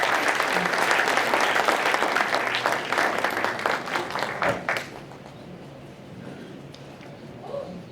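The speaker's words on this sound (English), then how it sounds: "Y'all, please give him a big round of applause." A local community gathering applauds a Myrtle Beach mayoral candidate, a hearty round of clapping that tapers off after about five seconds into quiet room tone with faint stray sounds.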